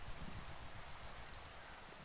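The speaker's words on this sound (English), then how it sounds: "Oh, now it's raining." Steady rain in a FNAF roleplay video game, a dense continuous hiss of falling water with no voices, even and unbroken throughout.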